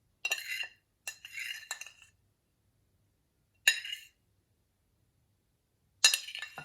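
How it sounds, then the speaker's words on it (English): Scraping grated cheese off a metal grater into a container, heard as four short bright scraping strokes, each under a second and separated by silent gaps, fairly close and quiet with no talking. "I will scrape the rest of the cheese"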